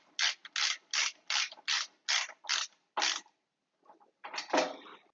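A flat-blade screwdriver taps a Shopsmith Power Station caster nine times in a steady run of short, bright metallic knocks, then a scraping clatter follows after a brief pause, close and loud.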